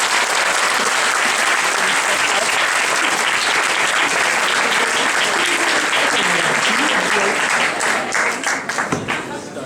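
An audience at a debate event applauds a speaker, sustained loud clapping filling the room with crowd noise, thinning into scattered individual claps at the very end.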